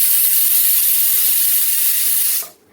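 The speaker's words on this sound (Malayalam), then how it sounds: "ചില നേരത്ത് കുക്കർ ഇങ്ങനെ സിസ്ന്ന് പറഞ്ഞ് നിൽക്കും." A kitchen pressure cooker gives off a loud, steady hiss of steam for over two seconds, then cuts off abruptly.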